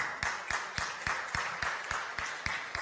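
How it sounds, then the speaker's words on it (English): A conference audience at a startup event claps in a steady rhythm, about four claps a second, with even, moderately loud beats over a soft hall background. "Applause, yeah."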